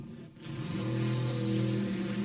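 A 345 cubic inch Hemi-powered drag racing car on a 1968 Woody Gilmore chassis at Mo-Kan Dragway gives a loud, steady engine roar that swells after a brief dip and holds a rich, throaty tone.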